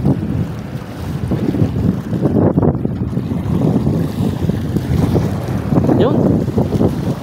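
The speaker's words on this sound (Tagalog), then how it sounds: "Hangin ulit eh." Wind buffeting the microphone aboard a small fishing boat at sea, with gusty roaring rumble and splashing waves rising and falling throughout, close and fairly loud.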